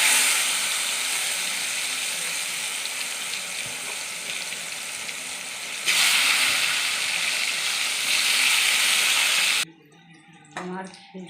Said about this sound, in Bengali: ওই পাঁপড় ভাজার তেলে আমি বেগুন ভেজে নেব।